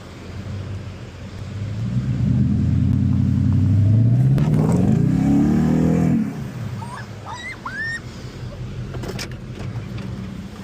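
A Toyota Tundra stuck off-road revs hard while trying to drive out, its engine rising in a loud, straining roar for several seconds before cutting off, after which faint background chirps remain.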